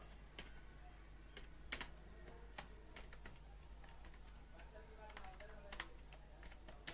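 Text is typed on a computer keyboard into MS Paint as scattered, irregular keystrokes clack at close range over a low steady hum, faint overall.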